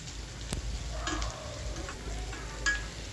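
Onions frying with crushed pepper and garlic in a pan, a soft steady sizzle with a few scraping stirs of a utensil, heard alone and up close.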